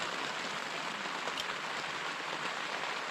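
Steady rain pattering on a tent during a storm, a dense continuous hiss of drops with no pauses, close and even in level throughout.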